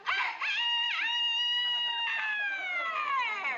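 A man imitates a rooster's cock-a-doodle-doo with his voice, one long, close, strained crow rising and bending in pitch for several seconds in an indoor comedy scene.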